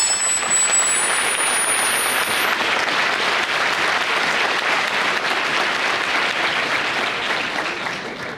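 A church congregation applauds in praise at an anniversary service, a dense, steady wash of many clapping hands held at full strength for about eight seconds, with a faint high whistle-like tone early on.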